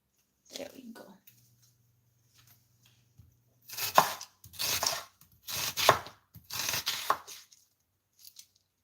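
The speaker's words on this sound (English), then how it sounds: "Everybody has their own way of chopping onions." Onions being chopped with a knife on a cutting board during home batch cooking, four bursts of quick rhythmic blade strikes, close and clear, with a little quiet talk and a low hum beforehand.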